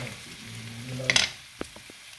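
Onion frying in a hot pan for mashed potatoes with caramelized onion, a brief soft sizzle under a low hum, followed by a few light taps of a utensil.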